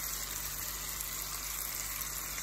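Water gushes steadily into a pot of smoked fish stew, a continuous close pouring wash.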